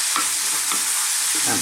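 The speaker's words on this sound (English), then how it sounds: "Keep stirring it." Vegetables fry on high heat in a pan, with a constant loud sizzle and a few spoon strokes scraping through them at intervals.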